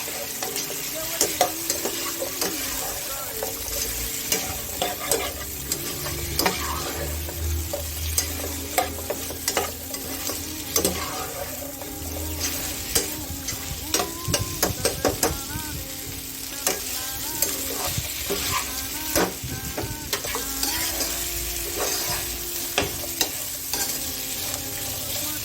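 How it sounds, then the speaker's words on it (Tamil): Chicken with raw mango and green chilli fries in ghee while a spoon stirs it, giving a steady close sizzle broken by frequent scraping strokes against the pan for the whole stretch, with no talking. "நல்லா அந்த நெய் கூட நல்லா ஃப்ரை பண்ணிக்கோங்க"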